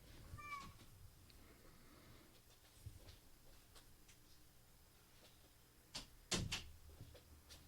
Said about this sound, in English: I got to shut that goddamn cat up.